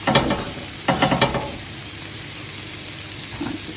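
Minted lamb kofta sizzle on a char grill pan at home, a steady close hiss with a few short bursts of scraping or stirring near the start and faint clinks later, no talking.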